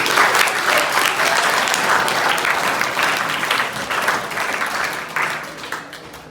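An audience applauds steadily at a road-safety awareness event, a dense sustained clapping that stays loud and even before thinning slightly toward the end.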